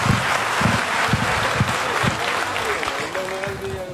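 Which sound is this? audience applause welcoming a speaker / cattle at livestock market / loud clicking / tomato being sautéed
audience applause welcoming a speaker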